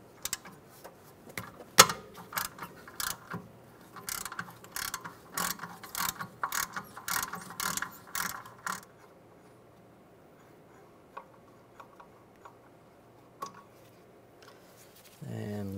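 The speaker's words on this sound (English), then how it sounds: "We're gonna remove the brake caliper bolts. We're gonna use a T40 socket." A hand ratchet fitted with a T40 socket loosening the rear brake caliper bolts on a 2006–2009 Mercedes-Benz E350, delivering bursts of rapid close clicking that then thin to a few isolated clicks and a low thump at the end.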